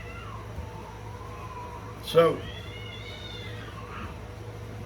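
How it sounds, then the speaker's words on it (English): A single drawn-out cat meow rises and falls against a steady background hum, with one louder yowl in the middle, and a person speaks briefly. "cats fight."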